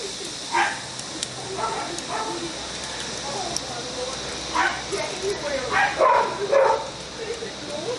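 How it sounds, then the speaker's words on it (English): Dogs barking in short bursts at a camp cooking site outdoors, several yips and barks scattered across the moment at moderate distance over a steady background hiss. "I think the dogs have finished their barking episode."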